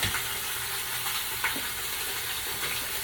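Two pounds of ground meat for an old-fashioned lasagna sizzle steadily in a hot pan, a loud, even frying hiss with faint stirring scrapes and no voices.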